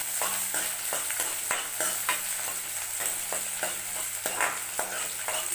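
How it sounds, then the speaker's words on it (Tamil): Sliced onion sizzles in hot oil in a pan for a brinjal masala, a steady close frying hiss broken by frequent scraping stirs of a spoon, with no talk. "இப்போ ஒரு பெரிய வெங்காயத்தை கட் பண்ணி ஆட் பண்ணிக்கிறேன். ஆட் பண்ணி நல்லா வதக்கி விடுங்க."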